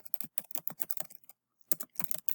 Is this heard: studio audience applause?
no